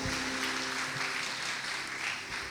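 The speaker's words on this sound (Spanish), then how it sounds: "Démosle fuerte esa ofrenda de palmas a nuestro Dios, hermanos" A church congregation claps steadily in praise during a worship service, a dense, continuous wash of applause that holds at an even level from start to finish, with no voices standing out.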